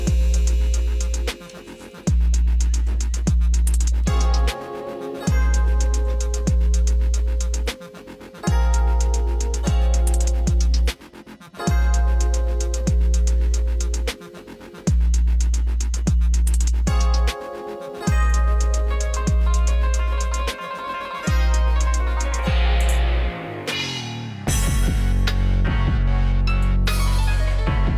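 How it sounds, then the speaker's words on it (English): An iMac G3 running Mac OS 9.2 boots up after repair. Loud, steady sound with regular brief dropouts runs for most of the clip, then shifts to a brighter, changing texture near the end, with no talk. "that electrical tick sound you heard in the video is the CRT."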